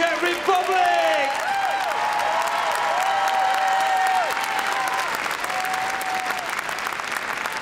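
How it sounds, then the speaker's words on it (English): An audience in the Crufts dog show arena applauds a heelwork to music freestyle routine at an international competition, with sustained, even clapping throughout and tonal music ringing over the top. "Come on, give it a final round of applause."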